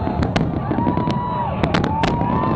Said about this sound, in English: We had fireworks.